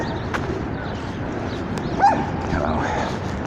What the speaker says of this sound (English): Oh, wait, that dog is trying to tell me something.